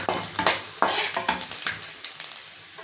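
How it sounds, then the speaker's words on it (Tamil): Garlic sautéing in a pan for a curry leaf and horse gram chutney, loud close sizzling with repeated scraping strokes of a spoon against the pan. "இதே போட்டு நல்லா வதக்கிங்க பூண்டு நல்லா வெந்து வர அளவுக்கு ஒரு ரெண்டு நிமிஷம் நல்லா வதக்கினா போதுங்க"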